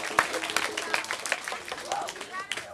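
An audience at a Balinese comedy performance at Pura Dalem Silungan claps in a dense patter of hand claps mixed with crowd noise and voices, lively and fairly close.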